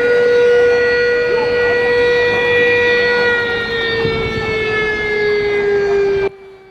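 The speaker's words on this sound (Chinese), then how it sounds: "空袭警报一响" An air raid siren sounds during a neighborhood civil defense drill in Yucheng, Nangang District, Taipei. One loud, sustained wail sinks slowly in pitch before stopping abruptly, and no one speaks over it.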